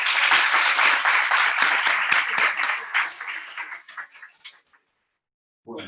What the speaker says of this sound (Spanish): ¿Le damos un aplauso a los chicos de distancia?